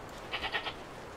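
Sheep bleating in a sheepfold in the game Force of Nature 2, four short overlapping bleats in quick succession at moderate level over a quiet background hiss.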